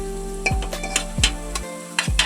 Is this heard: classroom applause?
no